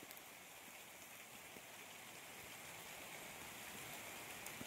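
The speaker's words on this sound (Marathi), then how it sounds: "आणि पाऊस पण आला मोठा." Heavy monsoon rain falls outdoors on open ground where goats and cattle shelter, a steady, faint, even hiss that continues without pause.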